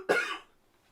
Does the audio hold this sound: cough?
yes